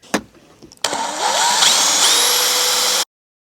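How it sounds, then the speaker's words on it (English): A power tool spins up with a 2mm bit pre-drilling holes during a campervan build, a steady loud whine that rises in pitch, holds for about two seconds, then cuts off abruptly after a faint knock. "I'm going to pre-drill this now with just a little tiny, I think it's 2mm bit."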